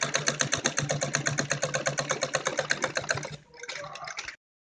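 A sewing machine runs a steady rapid stitching rhythm along a kurti shoulder seam, close and loud, slowing briefly before a short final burst and then stopping.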